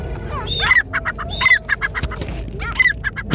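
Harsh, repeated partridge calls in bursts, loud and close, rising and falling in a rough chattering rhythm over a noisy outdoor market background.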